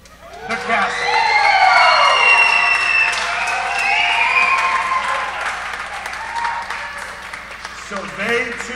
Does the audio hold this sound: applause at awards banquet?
yes